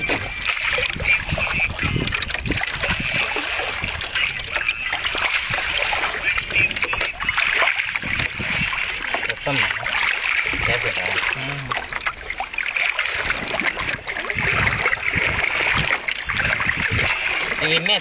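Small boat gliding down a forest river, a steady wash of water and splashing throughout, with voices chatting on board.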